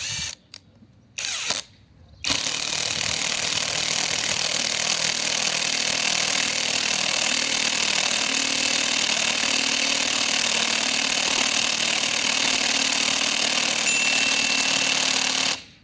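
A VVOSAI WS-Z9-CIP cordless impact driver on its second speed setting drives a slightly crooked screw, giving a loud, steady, continuous rattling whir that runs for about thirteen seconds after a few brief starts, then stops abruptly.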